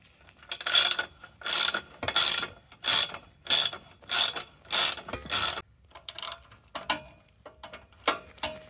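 Socket ratchet on a 1994 Jaguar XJS V12 loosening a bolt, heard as about ten loud, close bursts of rapid pawl clicking at a steady rhythm, each stroke separated by brief pauses, with no talking.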